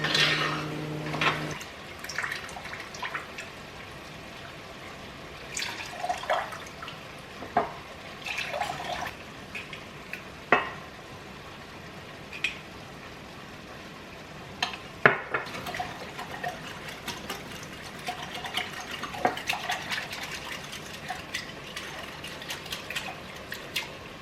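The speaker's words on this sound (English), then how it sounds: "add my cornstarch arrowroot powder is what I use to my beef broth here in this container so I can get it whisked up" Arrowroot powder whisked into beef broth in a container, giving soft liquid swishing and light clinks of the whisk, quiet and close, with a few sharper taps scattered through.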